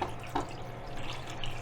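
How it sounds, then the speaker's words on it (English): Tap water running for an initial rinse while developing Fomopan 100 black-and-white film, water at roughly 20 Celsius, a steady close hiss of flowing water with a couple of brief splashy bursts. "I'm gonna give an initial rinse first."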